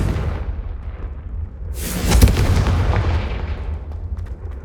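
Confringo blasting spell in the video game Hogwarts Legacy erupts as a loud, close boom with a bright burst, then rumbles and crackles as it fades over a few seconds.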